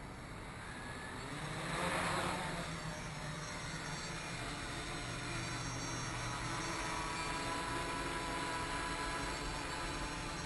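An H-Quad quadcopter lifts off and hovers in altitude hold mode, a steady droning whine with a swelling surge around takeoff, then a sustained, fairly faint buzz at an even level.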